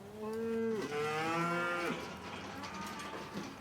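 A cow moos twice in close succession, loud and near, with a long harmonic call that breaks and resumes before trailing off into quiet farmyard background.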